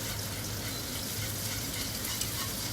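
Butter-thickened sauce for a veal fillet blanquette cooking in a pan. The sizzle and bubbling stay steady and even throughout, close and fairly loud, with no talking.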